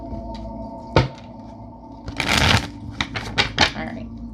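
Tarot cards are shuffled by hand during a psychic reading, with a sharp riffle near the start and then a longer loud burst of flicking, riffling cards followed by several quick snaps and taps, close and clear.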